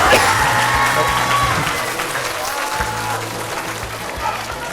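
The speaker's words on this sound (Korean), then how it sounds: "박수 주세요!" Loud applause from an audience of teachers and students at a school career talk featuring a webtoon artist, with some cheering, fading slightly over the span while music plays underneath.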